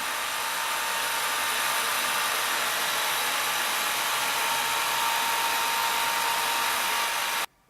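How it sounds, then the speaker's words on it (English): A hairdryer runs on its lower speed setting, a steady, loud broadband blowing roar that holds constant for about seven seconds and then cuts off abruptly. No one speaks. "The first group will collect the data using the hairdryer at a lower velocity."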